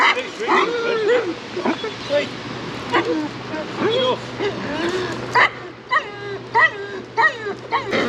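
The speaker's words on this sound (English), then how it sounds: "That's just a silly bark, isn't it, that? He's excited." A Labrador gives excited short barks, yips and whimpers in quick irregular bursts, close and fairly loud, over a steady low hum.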